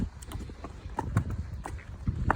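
A mare being ridden out on a short, easy walk, hooves clip-clopping in an irregular walking rhythm on hard ground, moderately close with a faint background hum.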